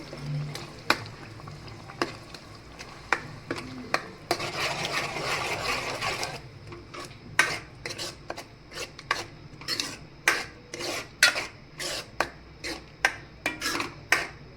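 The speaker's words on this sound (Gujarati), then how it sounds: "બધા મસાલાને સરખી રીતે હલાવી અને મિક્સ કરી લેશું" Chole masala gets worked into a simmering gravy in a pan. A stretch of rasping scrape gives way to a steady rhythm of sharp spoon strokes, close and distinct.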